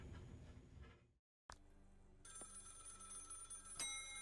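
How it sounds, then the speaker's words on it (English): A telephone rings in the horror video game Maid of Sker, a bright electronic bell trilling steadily after a brief silence and a sharp click, loud and unaccompanied by talk. "Where is this noise of phone coming from?"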